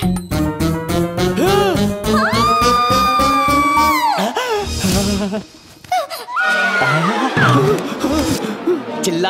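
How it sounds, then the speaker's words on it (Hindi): A person screams loudly, with long rising and falling wailing cries mixed with excited voices and laughter in a film scene. "चिल्लाने की आवाज सुनी?"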